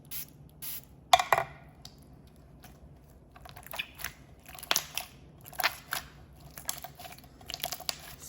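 Glossy clay slime is mixed and squished by hand, giving irregular bursts of sticky crackles, pops and wet squelches, fairly close and quiet, with no talk.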